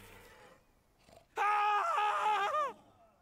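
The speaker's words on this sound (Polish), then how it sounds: "Wrzask. Chyba ludzki." A loud human scream from the Gwent video game bursts in after a quiet stretch, a sustained wavering cry lasting over a second before cutting off.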